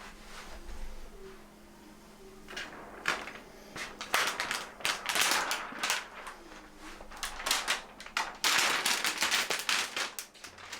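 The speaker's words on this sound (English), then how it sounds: "have the joy of peeling off that film" Protective film being peeled off a new LG CX OLED TV, giving bursts of close crackling and tearing that grow denser and louder toward the end.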